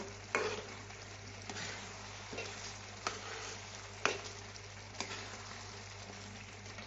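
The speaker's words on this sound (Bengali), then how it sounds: "জিরে ভাজা গুঁড়ো দিয়ে মিশিয়ে ভালো করে মিশিয়ে নেব" Quiet frying as roasted cumin powder is stirred into a pan of tomato pickle, with a spoon stirring and scraping at irregular intervals, over a low steady hum.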